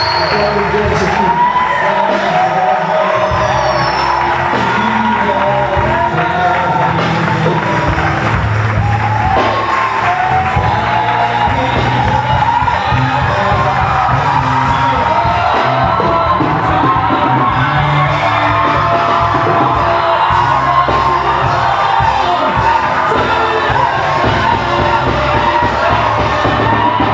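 A large church congregation roars with sustained cheering, whoops and shouts, loud and continuous throughout with no pause, voices blending into a dense crowd din.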